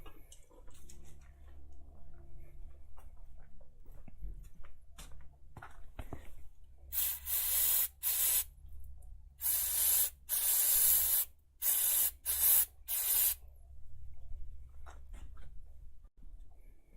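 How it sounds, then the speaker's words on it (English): Brake cleaner sprays from an aerosol can onto car oil drain parts during an oil change on a red KE70 Corolla. Five or six sharp, hissing bursts of a second or so each come close and loud, with quiet pauses between them. "I'll just hit it with a bit of brake clean"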